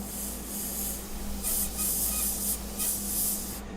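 Airbrush spraying sepia paint onto a portrait comes in several short hissing bursts over a low background hum, quiet and close with no talk.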